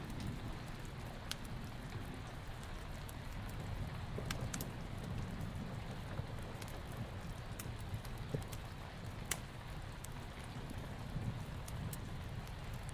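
Steady rain falling at night, a soft continuous hiss with scattered faint drips and ticks, low and even throughout, with no voices.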